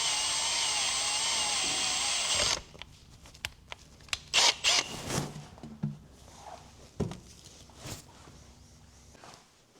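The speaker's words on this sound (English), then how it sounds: "I'm actually gonna drill a hole right here and I'm gonna drain the fluid that way" A power drill whines steadily and loudly as it bores a drain hole in a Dodge Caliber transmission, then cuts off abruptly, followed by scattered clanks, rustles and handling noises in a quiet garage.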